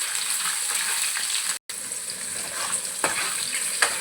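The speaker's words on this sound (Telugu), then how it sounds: "ఆయిల్ వేడైన తర్వాత పన్నీర్ ముక్కలను అయితే డీప్ ఫ్రై చేయాలి" Paneer pieces deep frying in hot oil in a kadai, giving a steady, close, loud sizzle with light stirring and a brief drop-out partway through.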